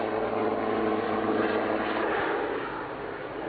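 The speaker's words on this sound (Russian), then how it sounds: "Вертолеты достали." A helicopter flies low over a home, a steady broadband rotor and engine roar holding loud and continuous, easing off slightly toward the end.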